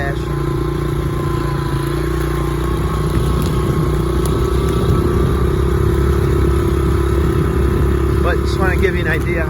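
Honda CRF70 dirt bike ridden slowly in first gear along a wet, bumpy wooded trail, its small engine droning loud and steady close by with rattling clatter throughout.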